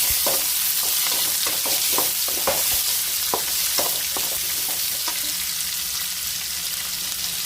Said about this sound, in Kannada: ಜೀರಿಗೆ ಹಾಕ್ತೀನಿ ಈಗ ಉಳ್ಳಾಗಡ್ಡಿ ಹಾಕ್ಕೊತೀನಿ ಉಳ್ಳಾಗಡ್ಡಿ ಕರಿಬೇವು ಈಗ ಮಿಕ್ಸ್ ಮಾಡ್ತೀನಿ